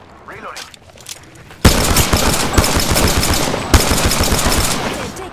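An R99 submachine gun fires in a video game: a quiet stretch gives way to a sudden, loud, rapid burst of automatic gunfire, a brief break, then another sustained burst, with a voice speaking near the start.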